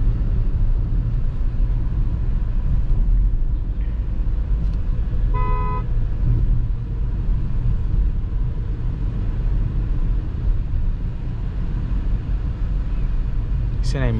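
Interior road rumble from a Beijing X7 SUV on an afternoon drive: a constant low drone with a short horn toot partway through, while someone talks over it.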